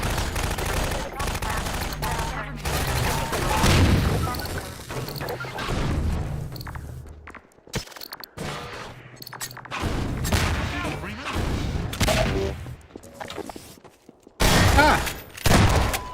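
Gunfire in Half-Life 2, with repeated bursts of shots and heavy impacts coming close and loud in clusters, broken by short quiet gaps, with a player's voice talking over parts of the action.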